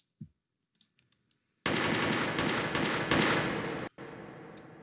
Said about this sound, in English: we got a reload here, right? Just reloading a gun. We got some gunshots.